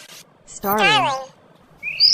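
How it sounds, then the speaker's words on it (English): A starling gives a single harsh, wavering call lasting about half a second, followed by quieter, high, thin whistles, heard up close against a quiet background. "Starling."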